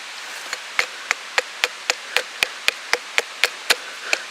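A small stake being driven with the hammer poll of a Cold Steel Trailhawk, about fourteen sharp, evenly spaced knocks ringing out close and clear over faint outdoor background, with no talking.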